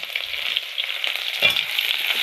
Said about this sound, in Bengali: পেঁয়াজ রসুন ভাজা দিয়ে দিলাম